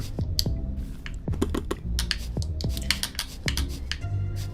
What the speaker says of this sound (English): That's not a keyboard sound, it's my controller.